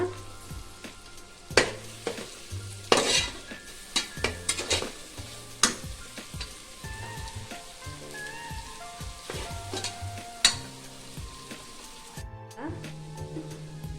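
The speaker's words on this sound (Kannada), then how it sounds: "ಈಗ ಇದನ್ನು ಎಣ್ಣೆಲಿ ಹಾಕಿ ಸ್ವಲ್ಪ ಫ್ರೈ ಮಾಡ್ಕೊಳ್ಳೋಣ." Soaked soya chunks and peas frying in oil for tomato bath, crackling sizzle with sharp spatula knocks and scrapes against the pan, close up, with background music or voice faintly underneath.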